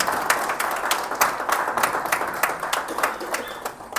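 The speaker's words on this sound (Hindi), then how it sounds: "एक बार जोरदार तालियां हो जाए हमारे" Audience applause for a guest at a Hindi business-story talk show: dense, steady clapping from a room crowd with sharper individual claps standing out, running the whole time at moderate loudness, no voices.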